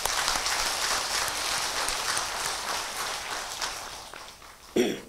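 Applause fills a Buddhist dharma assembly hall, a dense steady patter of many hands at moderate level lasting several seconds before fading, with a brief louder knock near the end.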